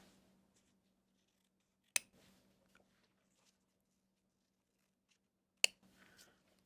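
Scissors trimming the edges of a fabric bunny softie, two sharp, crisp snips a few seconds apart, close and clear against near silence with faint handling sounds.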